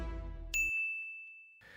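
A single bright notification bell ding rings out sharply, then holds as a clean sustained tone before fading, following a burst of music.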